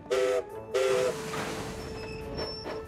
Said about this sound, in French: La petite locomotive verte se fait aussitôt atteler au wagon de Barnabé.